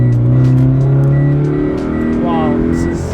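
A 2017 Toyota 86 with traction control switched off accelerates hard, its engine rising in pitch through a strong rev climb over about three seconds, loud and close from inside the car, with brief excited voices over it.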